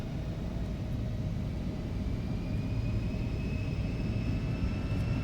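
Twin jet engines of an E-Jet airliner in the X-Plane 12 flight simulator spooling up to takeoff power: a steady, loud broadband roar with a thin whine slowly climbing in pitch, alone without talk.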